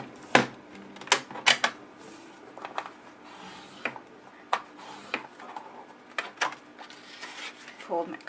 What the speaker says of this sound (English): bring out my score pal to make my score mark at 4 1/4